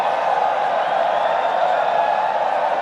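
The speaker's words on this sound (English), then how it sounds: "Very appreciative crowd." A large crowd at a Pakistan versus Sri Lanka T20I cricket match holds a steady, broad roar of cheering and chatter, heard from a distance as a continuous wash of voices without distinct claps or shouts.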